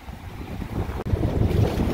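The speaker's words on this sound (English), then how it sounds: "The waves are definitely coming in." Wind and surf on a Gulf beach at Dauphin Island, Alabama, during Tropical Storm Cristobal: a steady low roar of waves and gusting wind buffeting the microphone, continuous and loud with no talking.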